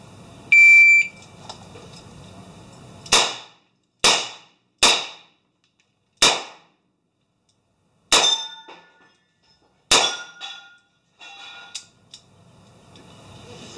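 A revolver fires in an outdoor shooting match, with about seven sharp, loud shots spaced irregularly and each ringing out with a metallic clang and short decay, after a brief electronic start beep.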